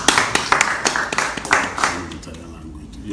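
An audience on a talk show claps in a burst of quick, close hand claps that fade out over a couple of seconds, mixed with voices talking.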